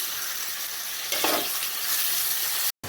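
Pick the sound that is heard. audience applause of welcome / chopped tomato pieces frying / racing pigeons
chopped tomato pieces frying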